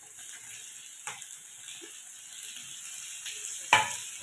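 Small paneer pieces fry with onion and capsicum in a pan for paneer chilli, giving a soft, steady sizzle throughout with a few faint stirring clinks and one sharper clatter near the end.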